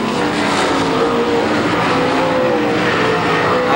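Race cars roar around a track on the high line near the wall while one car flies past others, making a loud continuous engine drone with shifting pitch as cars pass.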